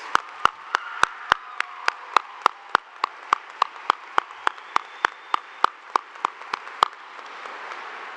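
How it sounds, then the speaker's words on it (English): Applause at a high school graduation ceremony for parents and families, heard as a regular series of sharp, loud, close single claps standing out over a softer, diffuse wash of crowd clapping, which lingers after the sharp claps stop. "Please give a huge round of applause for our parents, families that have supported these students."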